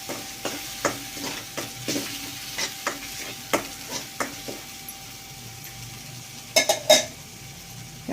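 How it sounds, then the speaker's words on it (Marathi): Spice masala for paneer curry fries in hot oil with a soft continuous sizzle, punctuated by repeated clinks and scrapes of a spoon stirring against the pan, ending in a cluster of louder knocks. "मसाल्याला तेल सुटेपर्यंत आपण मसाला तेलात परतून घेऊ."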